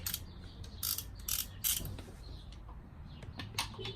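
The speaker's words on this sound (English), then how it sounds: "torque wrench" A torque wrench tightens a frame slider bolt on a BMW S1000RR sport motorcycle, giving a series of sharp, close ratcheting clicks in uneven bursts over a steady low background hum, with no talking.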